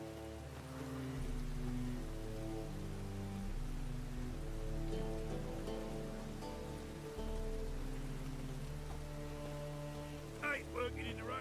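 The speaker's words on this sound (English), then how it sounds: "I ain't working in the rain." Rain in The Witcher 3 video game: a soft, steady patter of falling drops runs throughout beneath a sustained musical score, with a brief voice near the end.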